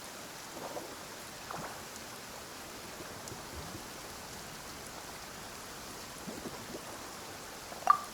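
Steady rain falling in the Genshin Impact video game, a soft even patter of drops with no voices and a brief brighter tap near the end.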